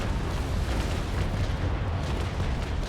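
Cannon broadside from a sailing warship in the naval combat game Naval Action, a dense, continuous rumbling roar of heavy guns sustained loudly for about three seconds with no pauses between shots.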